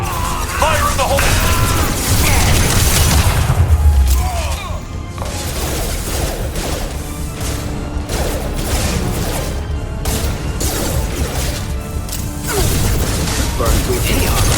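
Grenade explosions in the video game Mass Effect 2, a run of heavy booms and crashing blasts amid ongoing combat noise, loud and close, with game voices talking over parts of it.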